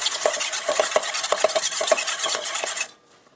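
Egg yolk being whisked into half a cup of water in a bowl for tempura batter: quick, rhythmic scraping and clinking of utensil against bowl, steady and close, stopping abruptly just before the end.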